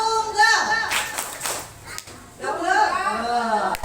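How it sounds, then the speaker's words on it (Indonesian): Schoolchildren at a primary school Ramadan program clap in unison, short sharp group claps separated by gaps, mixed with an adult voice speaking and children's voices chanting. "Tepuk tunggal."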